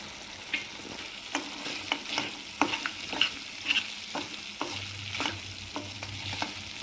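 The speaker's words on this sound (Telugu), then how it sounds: "బాగా కలుపుకోవాలండి." Drumstick mutton curry with garam masala is stirred in a pan, a spoon scraping in repeated strokes over a soft sizzle, close and fairly quiet with no talking.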